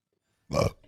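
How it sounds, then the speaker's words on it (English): A single short burp, loud and close, bursting out after near silence and trailing off quickly. "Burp."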